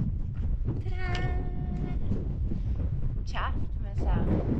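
Strong wind buffets the microphone on a Lake District hilltop along the Cumbria Way, a continuous low rumble and roar throughout, with brief voices and other faint sounds passing over it.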